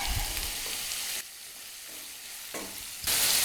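Onions sautéing in a pan for a chicken Mughlai dish, a steady hiss and sizzle that drops quieter midway then swells loud again, with occasional stirring, no talking.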